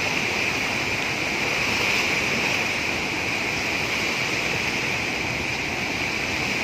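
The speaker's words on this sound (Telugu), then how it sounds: "నెమలికుండ్ల వద్ద గుండ్లకమ్మ వాగు ఉధృతంగా ప్రవహించింది" The flooded Gundlakamma stream rushes at Nemalikundla in a steady, dense roar of fast-flowing water. The roar holds an even loudness throughout, with no voices.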